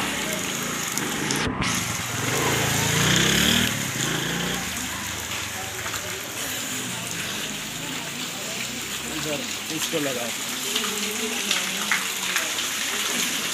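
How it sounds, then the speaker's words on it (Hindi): Heavy rain pours down steadily as a broad rushing hiss with spattering water, continuous throughout, while a person talks over it. "ये कोई मोटर नहीं चल रही, ये पानी है बारिश का।"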